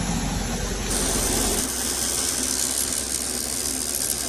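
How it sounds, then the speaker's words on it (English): Welding on a wheel loader bucket during its restoration, a continuous loud crackling, hissing arc with a steady background hum, close and unbroken. "First weld of many."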